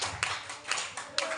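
Hands clap during a church service in a few quick, separate bursts at a moderate distance, a little uneven in rhythm.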